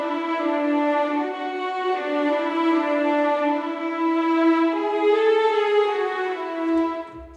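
Appassionata Strings sample library playing a short string line, a sustained melodic phrase with rich harmonics, alone and clear with no talking.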